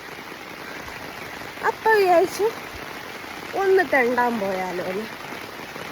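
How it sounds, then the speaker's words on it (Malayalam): Steady rain falls as a soft, constant hiss beneath someone speaking nearby in two short phrases. "മഴയും നിൽക്കുന്നില്ല"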